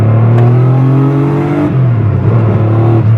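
A Porsche 911 with a turbocharged flat-six engine revs loudly and close, the pitch climbing and then falling back as the throttle lifts, with no voices over it.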